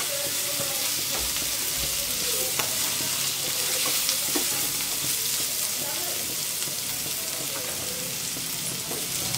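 Spices fry in a pan for a cabbage, potato and pea sabzi, making a steady, close, continuous sizzle broken by occasional scraping stirs.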